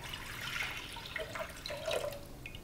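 Fresh coconut water from two coconuts is strained through a strainer, making a steady close trickle and splash of liquid with small drips, and no voices.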